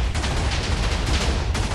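Rapid, dense bursts of explosions in the Minecraft video game, with overlapping blasts crackling continuously and loudly throughout, like a fusillade of TNT going off nearby.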